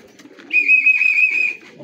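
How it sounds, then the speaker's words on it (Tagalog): A pigeon or dove gives a single sustained coo lasting about a second, fairly close and clear against a quiet background with faint low rustling before and after. "Second bird kay Sir SBH."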